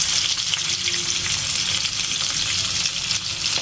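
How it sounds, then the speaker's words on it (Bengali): Beaten egg mixture frying in hot oil in a village kitchen makes a dense, continuous crackling sizzle, close and fairly loud, with no one talking. "তেলটা গরম হয়ে গেছে, এখন সবগুলা দিয়ে দিব।"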